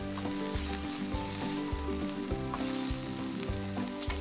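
Onion browning in a frying pan, a steady close sizzle and crackle with faint stirring, no talk.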